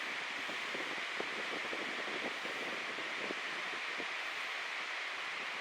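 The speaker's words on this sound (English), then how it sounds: "It's gusting now." Steady broadband gusting wind roaring through trees in Scotland, with leaves rustling and faint crackles, constant and fairly loud throughout with no voices.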